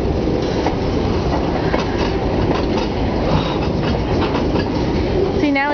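Railroad cars rolling along the track on the Berkshire Hills line, a steady continuous rumble with rhythmic clicks and rail noise, ending with a brief high wheel squeal.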